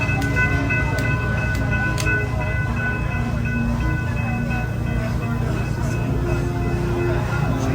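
The Busch Gardens Williamsburg amusement park railway train rumbles steadily along its track with a constant low roar, metallic squeals and faint clicks over the top.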